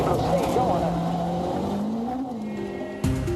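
A WRC rally car at Rally Estonia at full throttle, pulling out of a sideways slide. The engine note climbs and holds loud and near, with a sharp shift at the end and a commentator talking over it.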